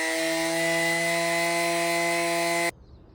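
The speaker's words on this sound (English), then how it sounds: "I'm just going to hit them on a bit of a 45 and just chamfer those edges a little bit." A power tool grinding a 45-degree chamfer on the edges of a 4 lb sledgehammer head, a loud steady high whine that cuts off abruptly near the end, leaving quiet room tone.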